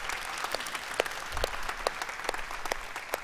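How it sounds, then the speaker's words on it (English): A church congregation claps hands in praise during worship, a dense, steady patter of applause from many people throughout, moderately loud with no talking. "will you give the Lord just a hand clap of praise because he is good"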